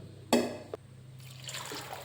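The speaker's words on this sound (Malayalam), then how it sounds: "വേവാൻ ആവശ്യമായ വെള്ളം ഒഴിക്കണം." Water splashes briefly into a pressure cooker holding washed tapioca pieces, a short pouring burst followed by faint trickling and settling sounds, quiet and close.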